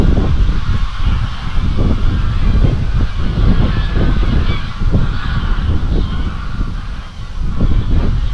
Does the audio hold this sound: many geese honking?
yes